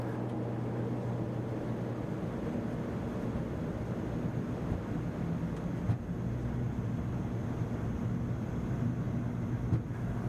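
Turboprop engines of an ATR airliner at takeoff power during the takeoff roll, a steady loud drone with a strong low hum and broadband roar, continuous and even throughout with no voices.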